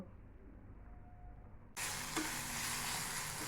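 Spices and chopped tomatoes sizzle in a hot pan as they are stirred; a quiet low hiss gives way to a loud, steady frying crackle about halfway through, with a scrape of stirring, and no voices.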